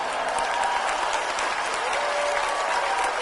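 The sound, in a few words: applause for Defence Minister Prabowo Subianto at a seminar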